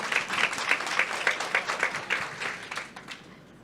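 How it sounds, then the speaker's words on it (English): An audience at a 2025 Women in AI Summit panel applauds with close, pulsing clapping that gradually thins and fades out toward the end. "Oh, yes, clap."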